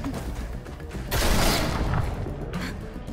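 A loud burst of gunfire from The Walking Dead: The Final Season video game, a sharp blast rising out of quieter background noise, followed by a lingering rumbling tail and a fainter second report near the end.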